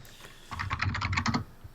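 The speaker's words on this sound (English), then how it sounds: "Sorry for the typing, guys." Fast, close clatter of keys on a computer keyboard, about a second of rapid typing strokes over a quiet background hum.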